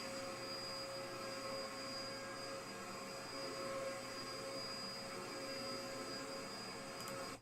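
An upright vacuum cleaner runs with its brush roll spinning, a steady droning whine with faint tonal hums, continuous and unbroken, moderately close with no talking.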